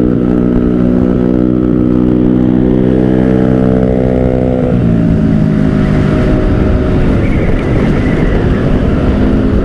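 A Honda Beat Fi scooter fitted with a racing CVT and 8-gram rollers, engine loud and close, revs climbing in rising harmonic sweeps, dropping near midway, then pulling again with rough roadside noise.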